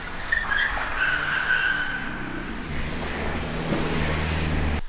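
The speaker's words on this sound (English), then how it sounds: "There are some absolute plums doing donuts in the car park." Cars doing donuts in a car park on a freezing night, tires skidding and squealing with engines revving at a distance, a continuous moderate screech.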